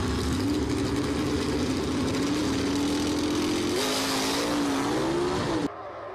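4-speed gasser drag race car making a full-throttle pass at a drag strip, a loud continuous engine roar rising through gears with a shift, then cutting off abruptly.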